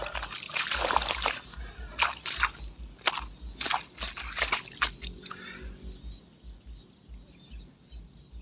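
Freshly caught fish are rinsed in water with irregular splashes, sloshes and trickles close at hand, busy for the first several seconds and then settling into softer dribbling.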